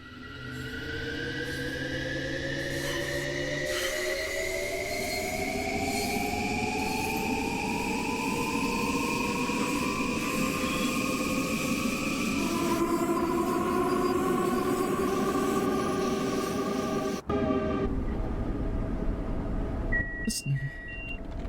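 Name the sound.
LIRR commuter train running, from video game Train Sim World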